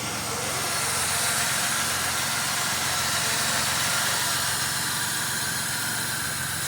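A car engine idles steadily after a new ignition switch has been fitted, giving a continuous mid-pitched running hum with light vibration that holds even and close throughout, with no voices.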